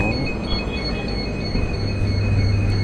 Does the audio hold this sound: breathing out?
no